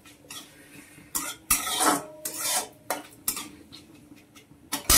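Spices being stirred in a cooking pan with a utensil, giving repeated scraping, rasping strokes in an irregular rhythm, close and fairly clear with no talking.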